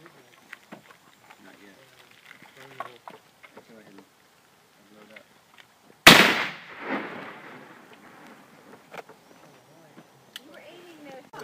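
A black powder gun fires at an outdoor shooting event, one loud sharp blast mid-clip with a rolling boom that trails off, while people talk and laugh quietly before and after it.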